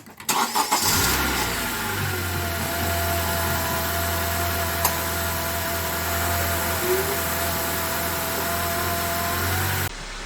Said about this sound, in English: now I'm just going to start the engine up just to verify that everything is okay